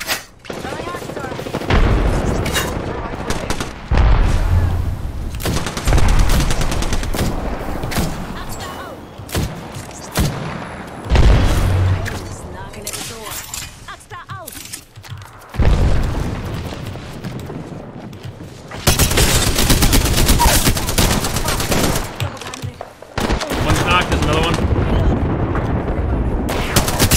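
Grenade thrown and bursting amid gunfire in Apex Legends, with loud bursts of automatic fire, booming explosions and thuds coming in waves, dense and close, while players talk over the action.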